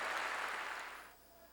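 A church congregation claps together during a Korean sermon, the applause at full strength at first and then fading into quiet room tone.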